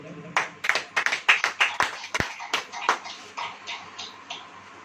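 An audience claps hands in a quick burst of separate, uneven claps that thin out and fade over a few seconds, fairly close and without speech.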